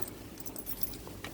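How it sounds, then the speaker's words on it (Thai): Keys for an Isuzu Adventure car jingle and clink lightly and close by for a brief moment, with no talking. "นะกุญแจมีสองดอก"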